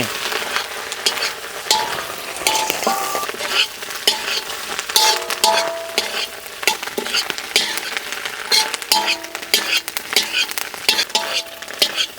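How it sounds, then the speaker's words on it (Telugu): Fried meat pieces for a mixed non-veg biryani are stirred in a pot, producing constant sizzling under busy, repeated scraping and clattering of a spoon against metal, close and steady with no talking. "ఇది ఒక్క 2 నిమిషాల పాటు బాగా కలుపుకోవాలండి మొత్తాన్ని."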